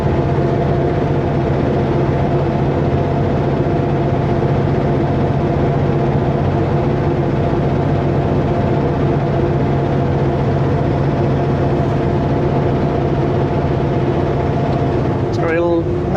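A heavy truck with an overheating engine, climbing uphill in gear, gives a loud steady low drone with constant engine hum throughout and a brief rattle near the end.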